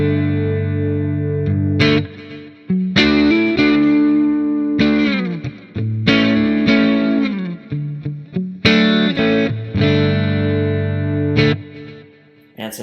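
Electric guitar played through Two Rock and Benson amp captures, the Benson adding warm edge-of-breakup grit. Strummed chords and picked phrases ring out loud and close with effects and echo tails, alone without talk.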